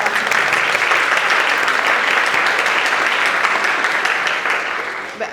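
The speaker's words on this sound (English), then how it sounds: "that's an applause." A large audience applauds, sustained and dense clapping that holds steady and then begins to fade toward the end.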